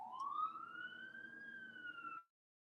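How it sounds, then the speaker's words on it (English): A single siren tone glides upward and holds steady, wailing clearly for about two seconds before cutting off abruptly into silence. "sorry about the siren, everybody."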